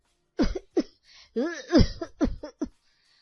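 A man coughs loudly several times in quick, harsh bursts, one after another, close up with short gaps between them, in cold winter weather.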